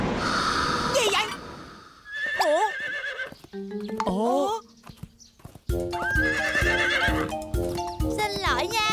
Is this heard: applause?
no